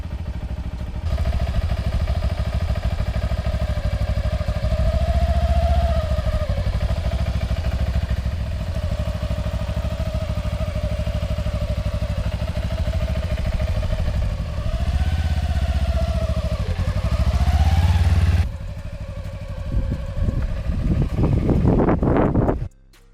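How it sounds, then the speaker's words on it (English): Motorcycle pulling away in first gear on clutch release, its engine humming steadily with small pitch rises as throttle is applied, heavy wind noise over the microphone, then a sudden drop and a few clattering bursts near the end. "So you want to give it gas and then stop. Let the bike start rolling forward."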